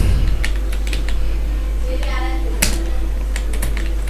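Keys tap on a computer keyboard in quick, uneven bursts of clicks, close and fairly crisp over a constant low hum.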